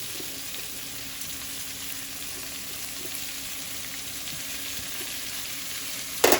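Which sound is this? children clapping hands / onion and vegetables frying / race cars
onion and vegetables frying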